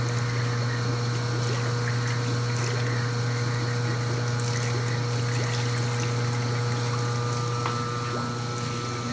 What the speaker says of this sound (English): So we're going to start by rinsing out the top of the hopper.